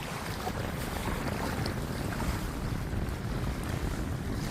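Sea waves wash against a Cornish shoreline on Bodmin Moor's coast, a steady continuous rush of surf with strong wind buffeting the microphone throughout, no voices.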